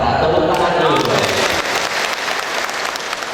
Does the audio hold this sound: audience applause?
yes